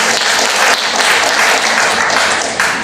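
An audience at an engagement forum in Australasia breaks into steady, loud applause, a dense wash of many hands clapping that continues unbroken for the whole stretch.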